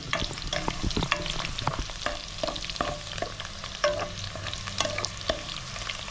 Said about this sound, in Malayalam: നമുക്ക് ഇതിൻ്റെ കറിവേപ്പിലിടാം മൂത്ത് വരുമ്പോഴേക്കും വെണ്ടയ്ക്കായി വളർന്നു വരും